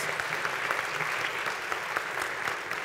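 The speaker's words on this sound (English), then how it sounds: "Give an applause for him as well." Audience applause at an academy of science education event, steady, fairly faint clapping with individual claps distinct, continuing evenly throughout.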